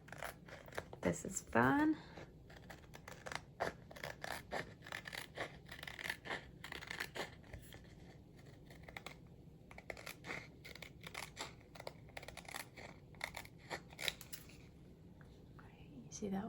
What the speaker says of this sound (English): My little scissors.